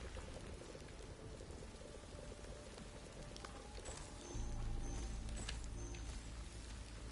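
Soft, steady rain patter in the video game Returnal, with a faint hiss of drops throughout and a deeper rumble swelling partway through, no speech.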